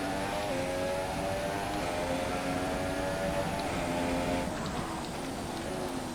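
A Formula 1 car's engine screams steadily at high revs in a racing video game on a wet Singapore track with dry tyres, a loud continuous whine rising through the gears with no pauses.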